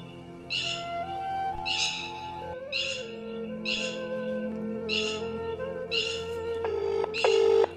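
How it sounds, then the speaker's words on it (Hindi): A run of short electronic tones, like phone keys being dialed one after another, steady and evenly spaced, ending in a pair of longer beeps. "लेकिन और लगा रहा हूँ कॉल, देखें मिल जाए तो मैं कॉल लगाता हूँ राकेश की"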